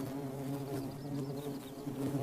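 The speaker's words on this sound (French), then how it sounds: "Des bourdonnements accompagnent l'accouplement." Continuous buzzing from a cluster of mating willow colletes bees, several droning tones layered close together, steady and fairly loud, with no voices.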